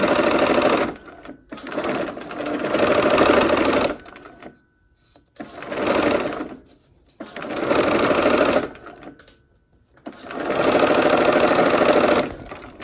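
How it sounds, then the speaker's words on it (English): A sewing machine stitches quilt pieces for a barn quilt sampler block in four long, steady runs of close whirring motor hum, each separated by brief quiet pauses. "And we're sewing from that corner."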